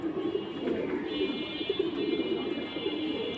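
A large female pigeon held in the hand coos in a low, steady murmur close by, with faint background talk and a thin high whine running beneath.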